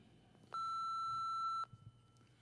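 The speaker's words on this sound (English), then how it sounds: "At the sound of the tone, please record your message." Answering machine beep: a single steady electronic tone, clear and close, holding for about a second before cutting off into quiet room noise.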